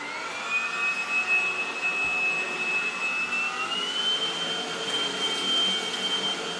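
Beldray BEL01195-150 Platinum Edition appliance running with a steady motor whir and a high whining tone that holds, then rises slightly in pitch partway through, continuous and fairly close, with no talking.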